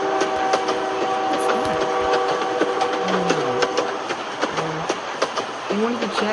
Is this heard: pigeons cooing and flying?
no